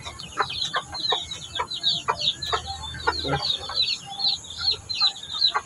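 Native hens cluck and chatter in a coop, a string of short, fairly close calls repeating through the stretch along with some faint chirps behind them.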